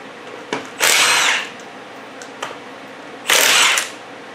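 An impact wrench works the lug nuts off a wheel of a 2011 Chevrolet Impala in two short, loud whirring bursts a couple of seconds apart, with faint clicks between them.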